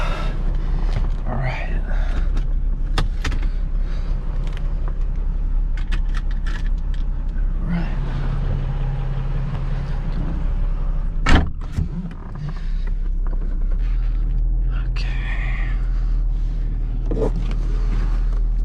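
Getting into a stock 2005 Nissan 350Z: a steady low engine idle hum runs throughout, broken by clicks and rustling of movement, one sharp loud door thump near the middle, then the idle steadies again.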